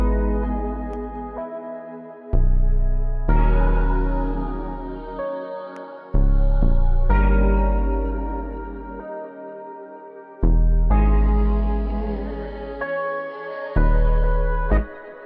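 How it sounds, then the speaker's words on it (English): Ambient R&B beat melodies, slow sustained chords layered with a reverb-soaked vocal chop, swelling and fading in long phrases with a deep low end, smooth and spacious with no voice speaking. "So altogether, the melodies sound like this."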